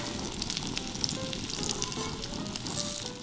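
Sage leaves stuffed with Italian sausage frying in a hot pan, giving a steady, moderately soft sizzle and crackle with faint pops, no voices.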